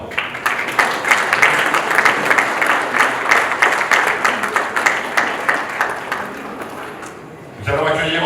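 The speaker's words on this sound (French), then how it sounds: "Je vais vous demander d'applaudir maintenant Madame Carole Mackay, Miss Mauritius" An audience claps steadily for a former Miss Mauritius at a 50th-anniversary pageant gathering, a dense wash of applause lasting most of the clip before tapering off into a voice speaking at the end.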